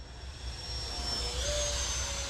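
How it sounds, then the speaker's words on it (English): A 3D printed Gripen model jet in lightweight PLA flies overhead, giving a steady whooshing jet whine with a rising tone that swells slightly louder as it passes, heard alone at moderate distance. "Amazing flying jet."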